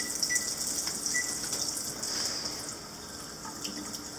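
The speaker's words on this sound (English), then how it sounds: "just rinse that, get the dirt off there" Tap water runs steadily into a kitchen sink while potatoes are rinsed of dirt, a continuous close hiss and splash with small clatters, no talk over it.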